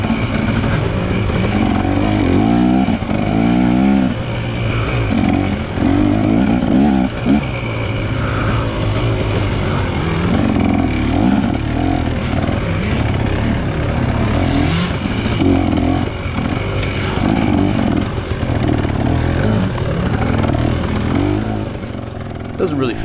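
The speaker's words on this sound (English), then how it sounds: "Doesn't really feel like I'm riding here, just kind of paddling my bike along." A dirt bike engine grinds and revs continuously through deep ruts during a hare scramble race, loud and close with throttle swells and no pauses.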